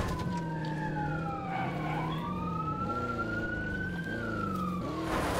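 A police car siren wails and sweeps up and down in Call of Duty: Black Ops 4 Blackout mode, loud and continuous over engine rumble, with several siren tones overlapping.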